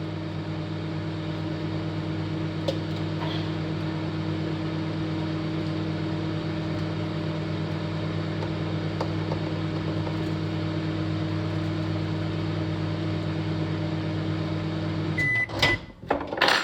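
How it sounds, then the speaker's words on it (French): A microwave oven runs with a steady low hum and whir for the whole stretch, ending with a few clicks and a short beep as it stops. "Et après, vous mettez ça au micro-ondes."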